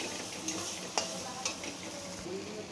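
Mashed figs stirred together with salt and turmeric in a pan, a soft scraping mix over a quiet steady sizzle, with a few sharp light clicks of the utensil against the pan, close and fairly faint.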